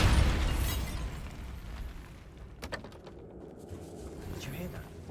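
A Bombarda spell explodes in the video game Hogwarts Legacy: a loud, close blast with a broad roar that decays over a couple of seconds, followed by faint clicks and a low rumbling ambience.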